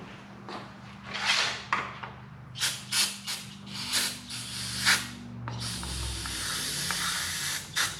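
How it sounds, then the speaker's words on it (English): Aerosol cleaner hissing into the carburetor of a 1985 Harley-Davidson Sport Glide FXRT in a series of short close bursts, ending in one long continuous spray. "Go ahead and spray that out, spray the carb out, let that clean a little bit"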